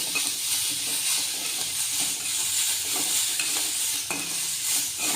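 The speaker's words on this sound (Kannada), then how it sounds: "ಆಮೇಲೆ ಕೊತ್ತಂಬರಿನೂ ಸ್ವಲ್ಪ ಫ್ರೈ ಮಾಡ್ಕೊಳ್ಳಿ" Coriander fries in a pan for a river-fish sambar, giving a dense, steady close-up sizzle with faint stirring scrapes underneath.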